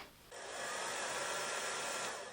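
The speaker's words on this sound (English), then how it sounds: "So if you've got a hairdryer, dry this now." A hair dryer blows steadily on a freshly painted watercolour figure sketch, switching on abruptly after a brief quiet moment and holding a loud, even airy whoosh to the end.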